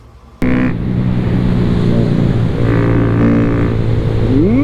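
A fully built Kawasaki Z125 motorcycle kicks into a loud, sustained engine drone after a sudden start, with steady wind rush and rising pitch sweeps as it revs and shifts while riding.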